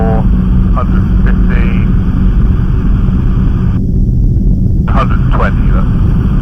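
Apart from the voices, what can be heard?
C42 light aircraft engine throttled back during descent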